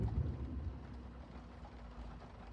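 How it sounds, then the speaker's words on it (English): Rain falls steadily outside at a truck stop during a flatbed trucking run, a broad continuous wash of noise with a heavier rumble early on and no talking. "I was kind of hoping this rain was going to wait until I got done"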